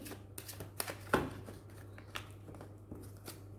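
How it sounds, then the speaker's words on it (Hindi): Tarot cards are shuffled and drawn for a card reading, with soft, close riffling and flicking rustles and one sharper snap partway through, quiet and with no talk. "इस बारे में मैं कार्ड निकालूंगी"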